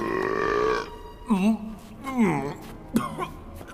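A loud, drawn-out burp erupts close up, followed by several shorter guttural belches and throat-clearing grunts in uneven bursts.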